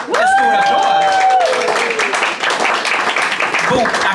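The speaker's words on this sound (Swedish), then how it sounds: "En stor applåd." Applause from an audience at an evening book-release event, broadband clapping sustained loudly throughout, with a voice speaking over the start.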